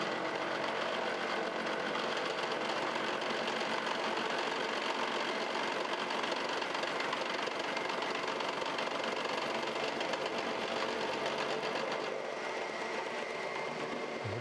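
A milling machine cuts a steel work-holding fixture for steam locomotive connecting rod bearings, taking about a fifty-thousandths pass with a steady whirring motor hum and a fine rapid chatter, and it continues without a break.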